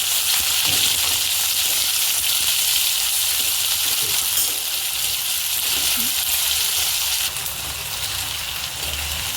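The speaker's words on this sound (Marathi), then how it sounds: "कढीपत्ता हे सगळं घालून घेतलं आहे आता चांगलं परतून घ्यायचं" Onion, garlic and curry leaves sautéing in a pan for aloo matar, a continuous bright sizzle heard close up, fairly loud and even throughout, with no voices.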